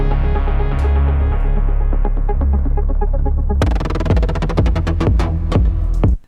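A plugin synth playing a tech house patch with envelope-automated LFO rate: a low, warbling drone gives way to a sharp bright attack, then fast rhythmic pulses that gradually slow into spaced stabs before ending abruptly.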